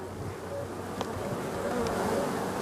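Many honey bees buzzing at a hive during a late-season check after syrup feeding: a dense, continuous drone of wings, close and steady, with a few individual bees flying past nearer.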